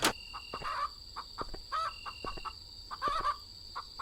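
Chickens cluck and murmur in short, scattered calls at moderate distance, over a faint steady background hum.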